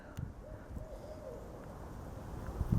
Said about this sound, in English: Is that an owl?